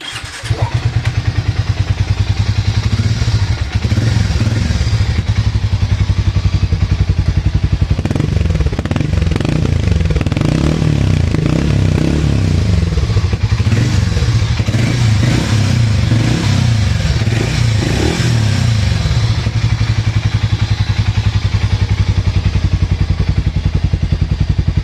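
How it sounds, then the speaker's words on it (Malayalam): A Harley-Davidson X440 motorcycle idles and revs with a deep, steady thumping exhaust note, loud and close, with rising blips of throttle across the middle, heard alone without talk. "ഇനി നമുക്ക് ഏതായാലും ഈ വണ്ടിയുടെ എക്സോസ് നോട്ട് എങ്ങനെയാണ് എന്നുള്ളത് കേട്ടു നോക്കാം"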